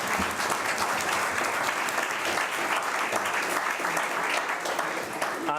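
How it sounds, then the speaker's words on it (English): A round of applause at a national youth parliament, many hands clapping together in a thick, continuous patter that stays loud and even throughout, close and unbroken by talk. "to give you all a round of applause"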